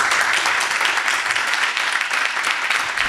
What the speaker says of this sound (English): with a round of applause from everybody in this room